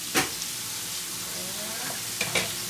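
Pork with egg, tomatoes and peppers sizzles in a pan, a steady frying hiss interrupted by a few sharp stirring clatters near the start and end.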